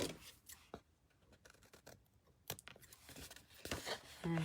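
Scissors trim paper in short snips and rustles close by, fairly quiet, with brief pauses between cuts.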